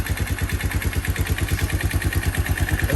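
A Yamaha DX motorcycle engine idles low and slightly lumpy, a steady close putter of rapid regular beats with no voices over it.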